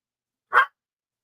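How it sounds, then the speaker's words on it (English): A small dog lets out a single sharp yap, close and fairly loud, a brief bark standing alone in otherwise complete silence. "So I'm going to apologize for the little barking, yapping dog."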